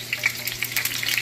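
Onions and green onions fry over high heat in a hot pan, a close, steady crackling sizzle with bright spits and pops throughout and no talk.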